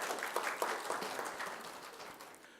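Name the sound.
audience round of applause at award ceremony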